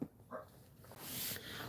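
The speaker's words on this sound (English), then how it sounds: "Dogs are barking" Dogs barking indoors, with a short yelp early on and a sustained louder stretch of higher-pitched barking and whining in the second half, moderately near.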